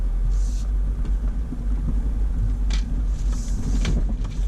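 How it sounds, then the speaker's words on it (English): M416 military trailer crawling over a rock garden behind a vehicle, its pintle hitch thunking amid a constant low engine rumble, with a few sharp knocks standing out. "All the thunking around is the pintle hitch"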